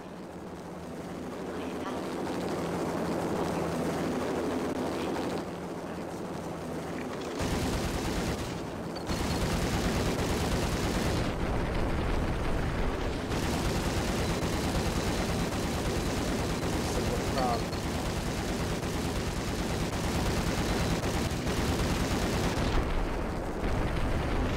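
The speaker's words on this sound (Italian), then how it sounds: "Devo buttare giù un elicottero." Helicopter and gunfire in the Max Payne video game, a dense, continuous wash of loud rotor drone and rapid shots with sharp bursts that cut in and out over a steady low rumble throughout.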